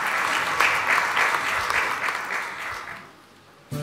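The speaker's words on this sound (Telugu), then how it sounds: "గట్టిగా చప్పట్లు కొట్టి దేవునికి స్తోత్రం చెల్లిద్దాం." A church congregation at a Sunday service claps loudly and steadily in praise, the dense applause fading away near the end before a sudden new sound cuts in.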